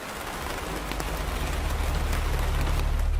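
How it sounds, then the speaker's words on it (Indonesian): Light drizzle falls in a soft, continuous patter beneath a low steady rumble, a gentle and even rain texture used as a story sound effect, with no voices. "Hujan gerimis terus berjatuhan lembut dari langit tanpa henti."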